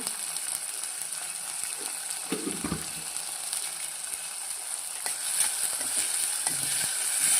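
Masala oats frying in a pan, a steady hiss of sizzling with a few stirring scrapes, growing slightly louder toward the end, close and alone with no voices.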